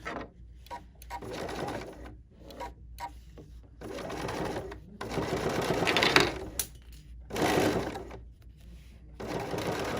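Sewing machine with a needle-down function stitching an ornament, running in short uneven close bursts separated by brief stops, with light clicks between runs.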